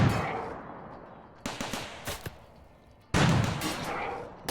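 Automated turrets in the video game RimWorld fire at an enemy raider on an extreme desert map, with sharp bursts of gunfire in clusters, a quieter stretch of scattered shots, then a loud dense volley toward the end.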